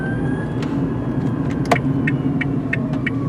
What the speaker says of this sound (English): It's like an electric car with no sound deadening, so you can really hear the electric motor.